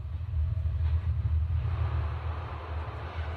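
A train rumbles steadily with a heavy low-frequency drone throughout, continuous and fairly close, with no speech over it.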